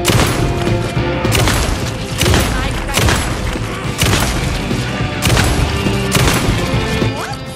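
A gun fires at enemies in the horror game Alan Wake 2, with sharp, heavy shots spaced about a second apart in a steady rhythm over a music bed, loud and close.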